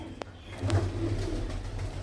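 Blue-footed pigeons in a loft give a short low coo close by, with a faint click just before it and soft rustling around.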